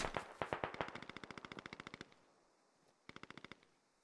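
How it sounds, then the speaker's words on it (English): Machine-gun fire on a hill in the military video game Squad, a long rapid string of evenly spaced shots that fade slightly in volume, then a pause and a shorter second burst. "Oddball started firing on the folks on the hill"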